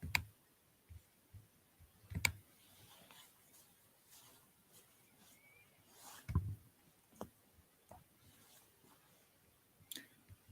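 A computer mouse clicked now and then in a quiet room, sparse sharp close clicks spaced a second or two apart, with a couple of duller knocks between them.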